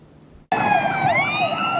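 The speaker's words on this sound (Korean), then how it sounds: "구급차의 긴박한 사이렌이 울립니다" An ambulance siren wails at a chaotic explosion scene at a chemical plant in Ulsan, starting abruptly after half a second of low background noise, then sounding loud and close with a steady tone that sweeps up in pitch.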